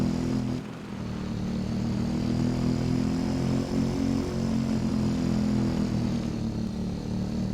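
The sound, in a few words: dirt bike riding on trails in the video game Farming Simulator 22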